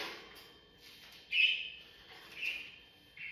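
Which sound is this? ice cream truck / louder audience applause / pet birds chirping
pet birds chirping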